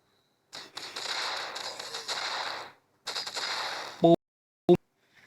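Bursts of rapid gunfire from a game, two sustained volleys followed by a couple of sharp single blasts, with no voices.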